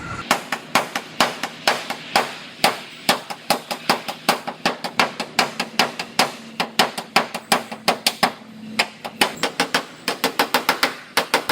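Repeated hammer blows straightening a bent hood on an old Toyota in a body shop, dozens of sharp, loud, close metallic strikes in uneven bursts, some rapid runs and brief pauses, with no talking.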